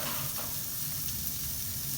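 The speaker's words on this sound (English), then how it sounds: "you know it's right because you hear it sizzle" Pancetta sizzles steadily in a hot pan, a continuous close frying crackle with a faint stir partway through, no voices.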